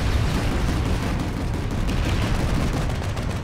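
Tank gunfire in Planetside 2, a dense, constant roar of heavy shots and explosions that stays loud and close throughout with no break.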